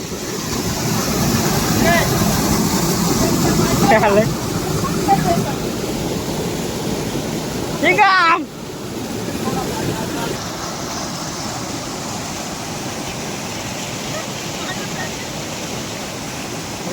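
Water rushing steadily and loudly through a farm field channel, a broad continuous roar close by, with a brief scraping sweep partway through.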